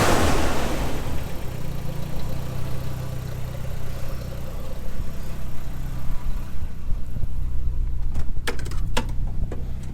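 A car engine, apparently an S13 or E36, idles steadily on a cold day with a low continuous rumble, no revving, and a few sharp clicks near the end.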